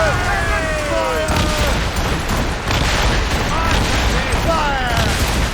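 A naval broadside in the video game Assassin's Creed Rogue, with ship cannons firing in a dense, continuous barrage of booms, loud and sustained, while shouted voices cut through the din.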